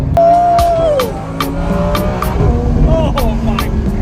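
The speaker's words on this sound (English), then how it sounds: "V10 Lamborghini Huracan just sounds amazing on the downshift" A V10 Lamborghini Huracan passing by on the downshift, a loud engine note dropping in pitch with a string of sharp rhythmic pops and crackles, close and prominent.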